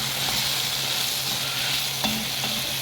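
Pastrami and tomatoes sizzling in a frying pan as they are stirred, a continuous close crackle with a couple of soft utensil scrapes.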